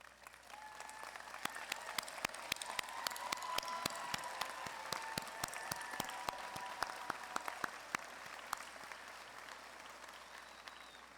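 Sustained audience applause at a Lamar University College of Business commencement as graduates' parents stand, dense steady clapping from a large crowd filling the hall for about eleven seconds.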